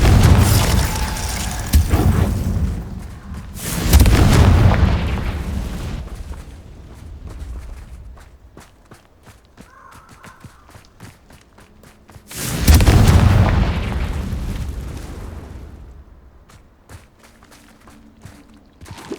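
Confringo blasting spells explode in the game Hogwarts Legacy: two heavy, booming bursts with long rumbling tails, separated by quieter crackles and thuds.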